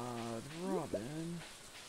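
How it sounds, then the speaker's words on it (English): Rain from the farming video game Stardew Valley, a soft, steady patter, sits quietly beneath a person talking for the whole short stretch. "we're going to need to feed the chickens today because it's raining."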